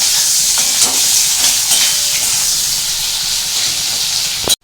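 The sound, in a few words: onions frying in hot oil with black cumin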